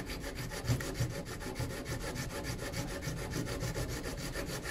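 An old socket from a socket set rubs sawdust and glue into a gap in the wood, a quiet, rhythmic back-and-forth scraping that repeats steadily up close.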